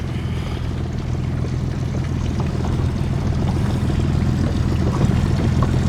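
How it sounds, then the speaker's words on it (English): A Yamaha jet drive boat with twin jet drives passes through a harbor, a steady low engine drone with a faint wash of water and wind, moderately distant and continuous. "That's a jet drive boat."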